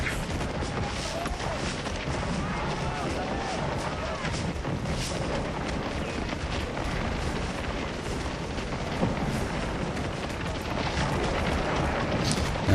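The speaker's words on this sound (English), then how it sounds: "Yep, they're shooting." Continuous dense crackle of massed musket volleys from a Civil War battle in the strategy game Scourge of War: Chancellorsville, a steady distant roar of gunfire filling the whole stretch with occasional louder pops.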